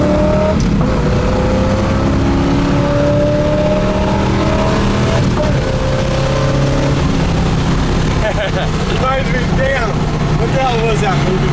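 A numbers-matching 1970 Camaro Z28 with its LT1 V8 rumbles loud and close, idling heavily and then revving, its pitch climbing and wavering toward the end, with voices talking over it.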